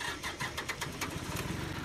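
Case tractor engine in Farming Simulator 19 cranking and catching, then settling into a steady low rumbling idle, close and fairly loud with no talk.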